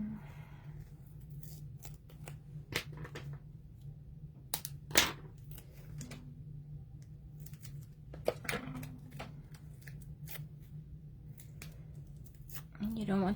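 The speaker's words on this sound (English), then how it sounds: "here's the strips, and you just cut them to the length that you need" Scissors cut foam strips to length at a craft table, sharp close snips scattered irregularly with a few louder cuts, while a person talks quietly in between.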